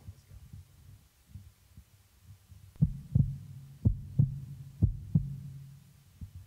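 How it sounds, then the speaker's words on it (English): Heartbeat sound effect in a music jam session: six low thumping beats in paired lub-dub rhythm, loud and close over a soft low hum, starting a few seconds in. "Listen to your heartbeat."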